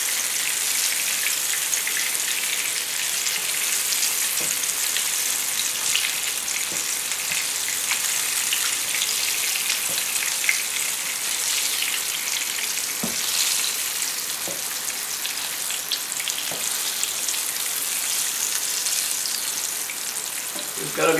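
Meatballs pan-frying in a skillet as they start to brown, giving a steady, close sizzle with occasional soft taps and clicks as they are turned, running continuously with no talk.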